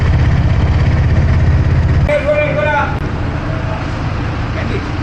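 A rumbling auto rickshaw engine idles steadily nearby in Sri Lanka, then eases off while a few short tonal sounds and background chatter pass over it.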